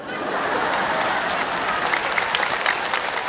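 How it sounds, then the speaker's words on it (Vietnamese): Audience applause at a live comedy and music show, dense steady clapping from a large crowd with faint chuckles mixed in, building slightly toward the end. "Chào vỗ tay nghe đã liền."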